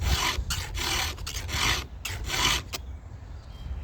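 A hand file rasps along a chainsaw chain's teeth while it is sharpened, with repeated close strokes in a steady back-and-forth rhythm before it stops near the end.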